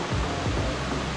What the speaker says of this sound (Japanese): これが 千尋滝です。